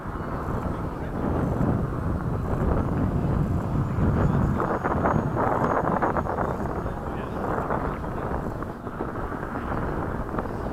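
An E-flite 80mm F/A-18D radio-controlled jet comes in to land with a steady, rushing ducted-fan roar that swells and then eases, heard close and loud and mixed with wind buffeting.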